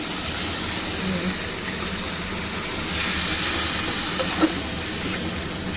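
Water poured into onions that have been fried until red in a pan, for a tengra fish chorchori: a steady, broad sizzling hiss that swells partway through and continues evenly to the end, with no talk.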